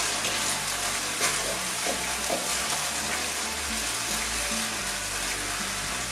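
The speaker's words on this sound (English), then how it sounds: "Bring this all back to boiling point." Thai green curry with broccoli florets and spring onion tops bubbling and sizzling steadily in a pan, a loud continuous simmer with faint stirring clinks throughout.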